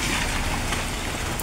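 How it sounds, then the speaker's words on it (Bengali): Heavy rain falls steadily in a village, a dense, even hiss close by, with wind and no voices. "বৃষ্টি রে"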